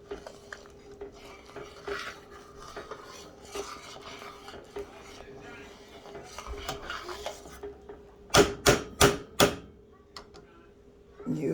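A spoon scrapes around the sides of a seasoned pot of cooking pecan candy, a steady soft rasping that ends in four loud, rhythmic scrapes close by.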